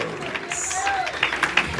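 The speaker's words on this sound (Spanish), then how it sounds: "Hermanos, pueden dar un aplauso al Señor" A church congregation claps for the Lord during a Spanish-language service in Chapel Hill, North Carolina, with scattered hand claps and crowd noise under a whistled or sung tone and voices.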